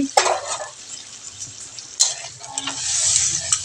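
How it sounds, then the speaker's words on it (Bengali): Fried fish pieces dropped into a pan of sizzling spiced masala, with a few sharp splashes and stirring clatters over a soft frying hiss that builds toward the end, no talk. "মশলাটাকে একটু ভালোভাবে কষিয়ে দিব এখন আমি যে জল দিয়ে দিব অল্প মাছ ভেজে রেখেছিলাম যে মাছগুলো দিয়ে দিচ্ছি"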